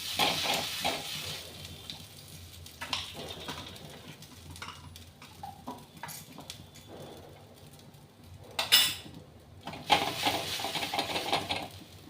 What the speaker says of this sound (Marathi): दोन्ही साईडनं तूप लावून चांगलं भाजून घेऊया आपण याला